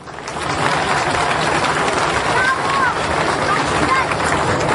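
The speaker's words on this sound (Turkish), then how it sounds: "folklorcularımıza da bir alkış istiyorum." A festival audience in Taşucu, Turkey, applauds folk dancers with a continuous mass of clapping, partly blurred by wind buffeting the microphone and faint voices underneath.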